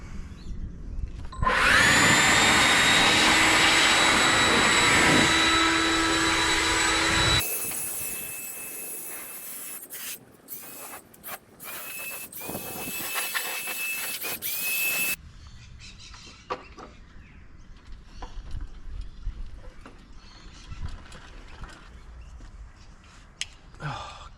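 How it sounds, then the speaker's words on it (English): A cylinder lawn mower runs loud and close for several seconds over newly laid TifTuf turf, its steady mechanical whir ending abruptly before quieter rustling and intermittent clatter follow. "So that's the cylinder mow on the new TIFTUF."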